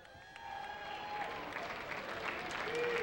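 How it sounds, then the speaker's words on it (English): Audience applause for a horse racing jockey on a televised racing show, a steady wash of clapping that swells slightly over a few seconds, with faint talk and tonal sounds beneath. "How about a big round of applause, folks?"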